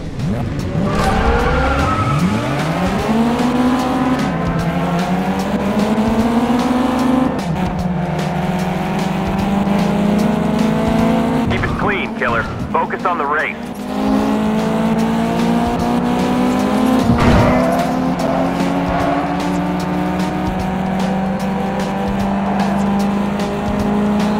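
Racing cars in the video game GT Racing 2 roar continuously with rising and falling engine pitch through gear shifts, with tire squeals and skids breaking in around the middle, loud and steady throughout.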